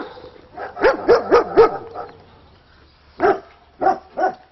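German Shepherd dogs from a breeder's pack give a quick run of four sharp barks, then go quiet apart from faint whimpering, then bark a few more times separately, fairly close and with no talking.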